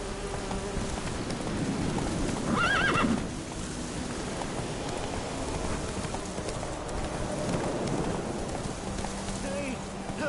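A horse whinnies loudly near the start, then hooves clip-clop along a road in The Witcher 3 with faint ambient insect or rain noise behind it, and brief game voices and effects mixed in.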